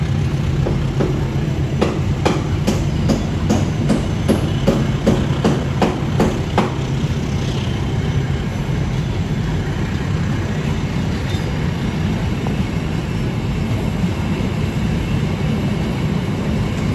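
A Pangandaran train departs on double track near Cicalengka, its wheels clicking in a quick rhythmic series of rail-joint knocks that fade out and leave a steady, loud rumble of the moving cars.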